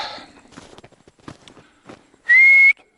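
A person whistles outdoors beside an open river: one sustained, loud rising whistle near the end, after quieter scuffling and footstep-like sounds.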